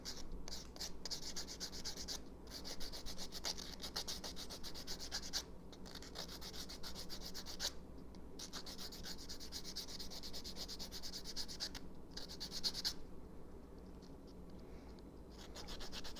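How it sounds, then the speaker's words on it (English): A fingernail being buffed with a fine grit buffing block, continuous close-up rasping strokes in a steady back-and-forth rhythm with a few short pauses, no talking. "This is a really great finishing touch to your manicure with one of these fine grit buffing blocks."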